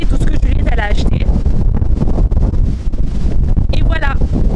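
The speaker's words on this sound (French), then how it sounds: "Oh non, mais le vent il revient. Il y a beaucoup de vent." Strong outdoor wind buffeting a microphone, a continuous loud roaring rumble throughout while someone speaks over it.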